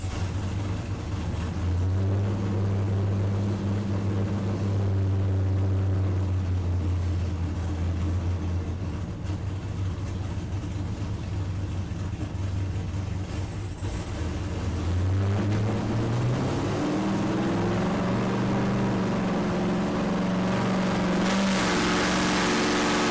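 An LS-swapped car engine runs on a dyno, holding a steady droning tone, then climbing in pitch as it revs up near the end, loud, close and continuous, with no voices.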